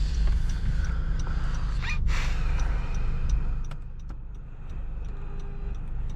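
The 2.4-liter four-cylinder VTEC engine of a 2016 Honda Accord Sport, heard from inside the cabin on a test drive, gives a steady low droning rumble that eases off somewhat partway through. No speech is heard.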